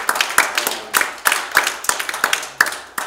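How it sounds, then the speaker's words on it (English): A church congregation claps hands in a loose, uneven rhythm, a few sharp claps standing out above the rest, close and fairly loud with no speech over them. "Give the Lord a hand clap."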